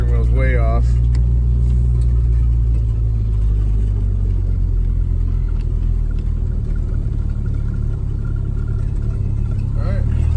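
A turbocharged Honda Civic on the move produces a steady low engine drone and road rumble throughout, close and loud from inside the car, with the engine hesitating; a voice is briefly heard at the start.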